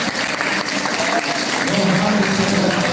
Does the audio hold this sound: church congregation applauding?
yes